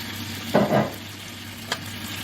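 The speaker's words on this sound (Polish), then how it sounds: "Fileta wrzucamy na oliwę z oliwek." A chicken fillet hits hot olive oil in a pan, giving a short burst of close sizzling and scraping that fades to a low steady fry, followed by one brief sharp clink.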